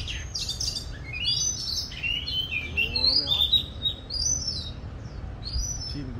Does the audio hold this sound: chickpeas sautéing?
no